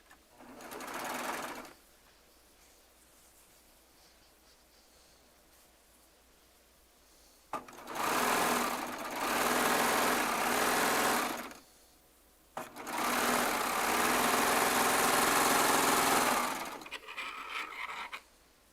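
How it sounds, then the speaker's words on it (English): A Baby Lock Triumph serger sews rows of quilt blocks together, running in three loud, steady bursts of whirring stitching separated by quiet pauses. "Then we can get the rows sewn together."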